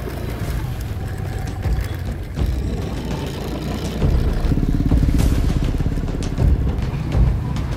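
Dense motorcycle and car traffic rolls past on a busy Karang Satria road, a steady close engine rumble that swells louder midway with passing bikes.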